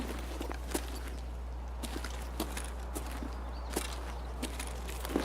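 Footsteps of nearby players in the Woods map of the shooter Escape From Tarkov, soft repeated crunching steps off to one side, faint and steady over a constant low hum.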